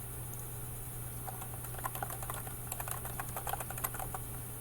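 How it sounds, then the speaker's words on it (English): Someone types on a computer keyboard with scattered, uneven keystrokes that cluster toward the end, over a steady low electrical hum, and no one speaks. "you hit the Enter key."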